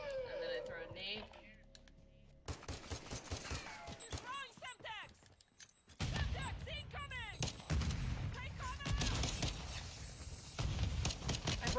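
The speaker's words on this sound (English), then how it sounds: "And then I throw a nade." A thrown grenade and bursts of gunfire sound in a video game, mixed with clicky keyboard typing. A voice talks over the action, and dense, loud blasts and shots build in the second half.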